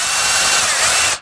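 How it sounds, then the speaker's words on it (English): A power drill fitted with a 1/4-inch bit bores a through hole, giving a loud, steady, high whine that holds for just over a second before cutting off abruptly. "Here I've switched to a 1/4-inch diameter bit to do the through hole."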